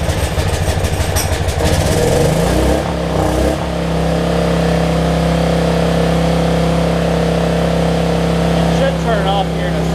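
A Generac 7500EXL portable generator with a faulty low-oil sensor cranks with a rapid pull-start clatter, then catches and runs at a loud, steady drone close by.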